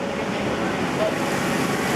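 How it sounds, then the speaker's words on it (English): Artificial rain pours from high-powered overhead water spouts on a studio backlot film set, a dense, steady hiss of falling water, loud and continuous with no talk. "This rain scene you see here is created by high-powered water spouts located just overhead and just out of camera range."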